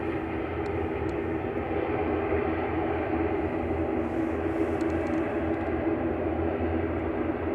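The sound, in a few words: Emerald Airlines ATR 72-600 arriving at Manchester Airport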